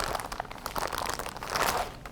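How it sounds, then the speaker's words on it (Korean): Sock loops for a craft project pulled out of a plastic bag, a close, continuous crinkling and crunching of plastic that swells near the end, with no talking. "여기 비닐팩에 들어있는 양말목을 꺼내 볼게요"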